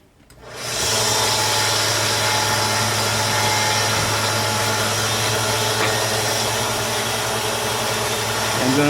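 A Harbor Freight 1x30 belt sander runs up from quiet into a loud, steady motor drone with belt hiss while sharpening a blade under light pressure, holding evenly to the end.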